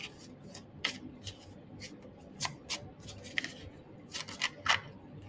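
Tarot cards are drawn and handled close by, with crisp slapping and sliding bursts in an irregular rhythm over a low background hum.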